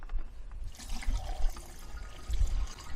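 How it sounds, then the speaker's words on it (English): Water is poured through a funnel into the small water tank of a brown campervan at a campsite, a steady splashing, gurgling flow that swells and dips, close by with no talk. "This is how we fill the wee brown van up with water."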